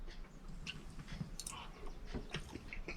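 Close, quiet chewing of a mouthful of corned beef hash with a runny poached egg, soft wet mastication and small clicks repeating over a few seconds, with no talking.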